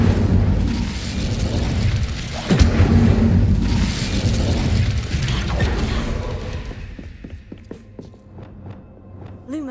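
Incendio fire spell cast in Hogwarts Legacy: a loud, roaring burst of flame with a deep thump. It trails into crackling, creaking magical rumble, then fades to quieter, scattered tones.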